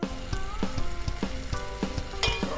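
Garlic and chili stir-fried in hot oil for a home-style Japanese-style baked egg rice dish, loud crackling sizzle with rhythmic scrapes and clinks of a utensil against the pan roughly every half second.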